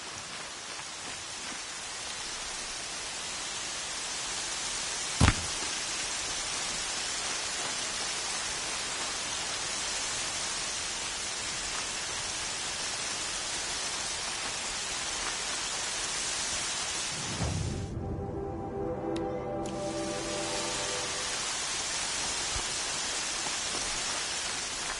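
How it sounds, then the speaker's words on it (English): Steady rain in Horizon Zero Dawn, a dense even hiss filling the scene, with a sharp single crack early on and a brief tonal swell interrupting the downpour near the end. "Rain's not so bad."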